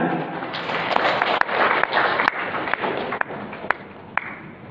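Lively applause at a regional election launch event in Indonesia, steady clapping with sharp thumps and pings from microphone or stage noise scattered through it.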